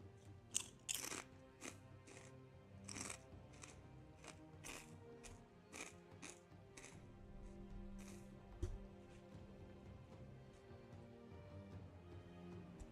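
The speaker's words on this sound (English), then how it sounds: "Can you guys hear me crunching?" Chips are crunched and chewed close to the microphone in a string of sharp, irregular bites with quieter chewing between them, and nobody speaks.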